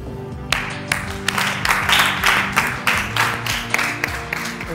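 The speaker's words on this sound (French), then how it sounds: "On va l'applaudir encore" Applause from a studio audience for a guest on a talk show, steady rhythmic clapping lasting several seconds with distinct sharp claps standing out, fairly close and moderately loud.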